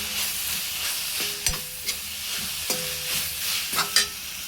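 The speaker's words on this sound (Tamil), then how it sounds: "இதையும் சேர்த்து நல்லா நம்ம கிளறி விட்டுடலாம்." A spatula stirs capsicum gravy with chili powder in a sizzling pan, with several distinct scrapes and knocks over a steady close frying hiss and no voices.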